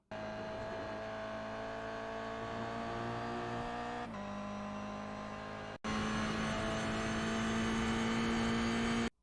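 Toyota GR86 race car engine in the iRacing sim at Oulton Park International, a loud, steady full-throttle whine rising in pitch, with a sharp drop at each gear change and a strong climb again afterwards.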